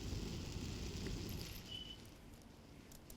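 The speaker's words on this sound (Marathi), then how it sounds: "सकाळपासूनच रिमझिम जोरदार पावसाच्या सरी या मुंबई शहरामध्ये बरसत आहेत" Steady rain falls across Mumbai, a faint, even hiss of drops with no pauses and no voices.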